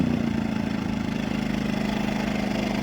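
A Champion 2000-watt portable generator engine idles while warming up after starting, giving a steady, even, pulsing drone at close range.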